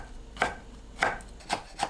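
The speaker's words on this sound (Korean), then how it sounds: "물이 어느 정도 빠지면 다시마를 썰어주세요" Knife slicing soaked kelp into thin strips on a cutting board, four crisp distinct chops at an uneven pace, close and clear with no talking.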